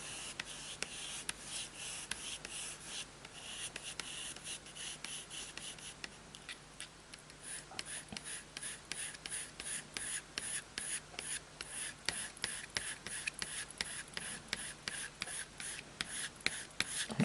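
Colored pencil worked over drafting film to build fur texture, a soft, rapid scratchy stroking that repeats in short close strokes, quiet and continuous with no voice.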